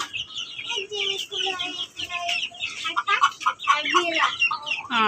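Chickens cluck steadily inside a hen house, a flock of overlapping squawks and short calls at close range, with a faint voice mixed in underneath.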